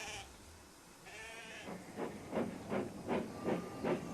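Sheep bleat in a rapid run of five or six short, rhythmic calls following a hissing, steamy stretch at a small railway station where a tank engine has unloaded a flock.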